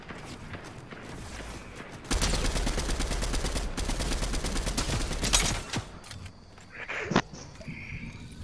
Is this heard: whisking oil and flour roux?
no